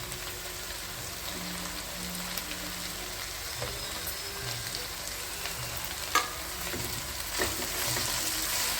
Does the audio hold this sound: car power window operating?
no